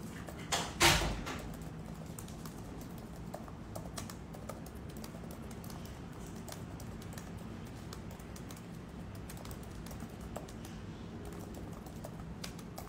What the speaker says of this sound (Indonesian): mumpung lagi keinget ngetik buat tim